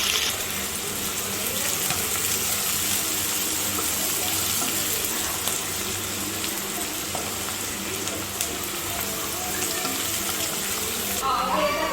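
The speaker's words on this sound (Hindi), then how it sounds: "अब इसमें हम 2 तेज पत्ते डाल देंगे और बारीक कटा प्याज डाल देंगे।" Bay leaves and finely chopped onion sizzle in hot oil in a kadai, a loud continuous hiss that stays steady throughout with no pause.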